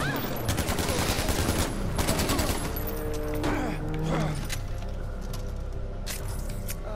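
Rapid rifle gunfire in the video game Far Cry 4 comes in dense bursts of sharp shots at moderate volume, with game sounds and a voice speaking faintly in the background.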